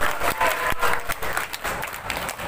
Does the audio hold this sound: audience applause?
yes